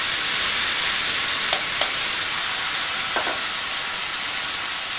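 Boiled pumpkin and potatoes coated in turmeric sizzle steadily in a hot pan, a bright continuous frying hiss with a few faint stirring clicks near the middle.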